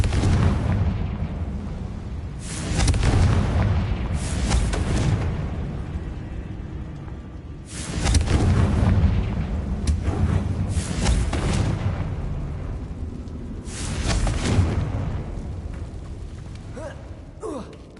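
Spell blasts from the Confringo fire charm in the PS5 game Hogwarts Legacy, three loud booming bursts spaced a few seconds apart, each with a rumbling tail over steady low background ambience.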